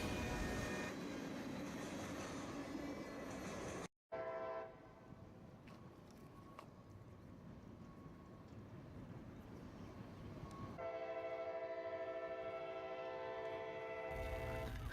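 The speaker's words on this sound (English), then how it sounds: "CSX K701 is an ethanol train headed westbound through Cordele." A westbound CSX ethanol freight train passes through Cordele, Georgia, sounding a loud multi-tone horn in long blasts over the rumble and clatter of the rolling cars.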